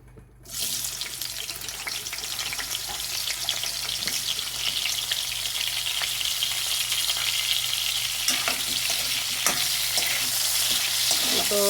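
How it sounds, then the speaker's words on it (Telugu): Washed salted dried fish hits hot oil in a kadai, bursting into a loud, steady close sizzle after a brief quiet start, with occasional scraping and stirring clinks over the constant frying hiss. "సాల్ట్ కడిగేసుకొని ఇట్లా కడాయి పెట్టుకుని నూనె వేసుకొని ముందు వేపేసుకోవాలన్నమాట"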